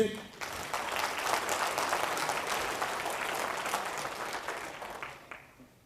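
A church congregation claps together during a Malayalam sermon, a dense, sustained wash of applause that holds steady for several seconds before fading out at the end.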